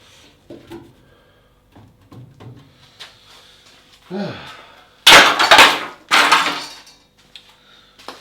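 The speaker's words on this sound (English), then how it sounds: "might as well just hack some of this rust out of the way" Rust hacked out of a BMW E30 325i M-Tech 2 wheel arch: scattered metallic taps and scrapes, then two loud, harsh bursts of grinding, crunching impacts at close range, with brief murmurs between.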